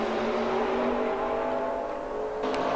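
A Lamborghini GT3 race car engine in a racing video game at Mugello, holding a steady high-pitched drone at full throttle, loud and continuous with no talk.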